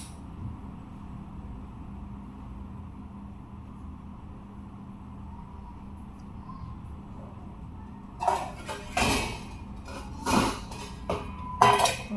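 A cooking pot for a brinjal and potato curry is picked up and set on a gas stove. Several loud metallic clanks and clinks come near the end, after a steady low background hum.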